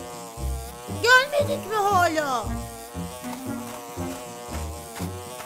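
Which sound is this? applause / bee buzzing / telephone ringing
bee buzzing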